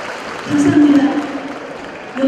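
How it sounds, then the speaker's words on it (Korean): Audience applause at a commemorative ceremony marking an 800th birth anniversary rises as a burst of clapping from a crowd, mixed with a voice over a public address system. "역시 박수 소리가 굉장히 매운타요"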